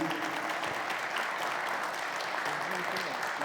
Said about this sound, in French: On vous applaudit avec chaleur